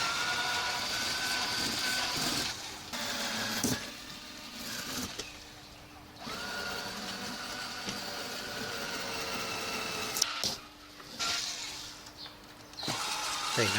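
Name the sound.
drill boring holes through leather of a suitcase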